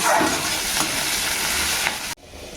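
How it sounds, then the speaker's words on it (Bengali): Onions fry in hot oil for a masoor dal tempering, a loud close sizzle with a few stirring scrapes before it suddenly drops to a softer background. "এই যে পেঁয়াজ ভাজি পেঁয়াজ ফোড়ন দিয়ে মুসুর ডাল"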